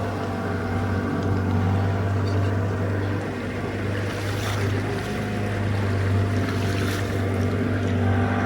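A boat motors across clear blue sea off Phi Phi Island, Thailand, its engine giving a steady, close droning hum. Wind and water noise wash over the drone throughout, and nobody speaks.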